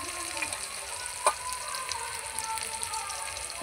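Chopped onion frying in oil in a kadai gives a steady, soft sizzle with faint crackles and one brief sharp clatter, heard alone without voices.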